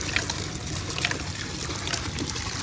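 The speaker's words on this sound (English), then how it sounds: "the water is coming up from the wheel" Water pumped up by a wheel-driven free-energy water pump trickles out in a steady, continuous splashing flow at moderate volume, heard alone.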